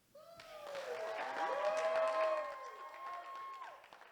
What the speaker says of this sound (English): A round of applause one more time for the best man, Richard.